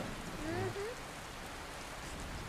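Steady rain hisses during a stage play, with a brief voice rising over it near the start before the rain continues alone.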